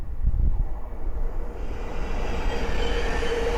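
A Thameslink Class 700 electric train rushes past on a main line through open countryside, a loud close roar of wheels on rail with a rising high-pitched whine as it goes by.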